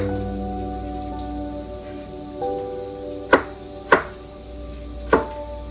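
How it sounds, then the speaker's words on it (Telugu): Three sharp knife strikes against a board cut potatoes into thin long strips for an Odia mixed-vegetable fry, spaced apart and loud and close over a steady background hum. "ఆలుగడ్డలని ఇట్లా సన్నగా పొడుగ్గా కట్ చేసుకోవాలి."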